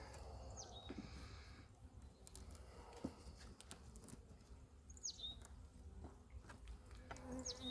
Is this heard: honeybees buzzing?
yes